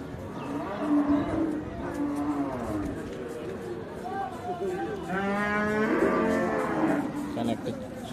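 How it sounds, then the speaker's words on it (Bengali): Buffalo at a Saturday riverside livestock market in Hazratpur low repeatedly with long, drawn-out moos, close and fairly loud, while people chatter in the background. "আরেকটা মহিষ"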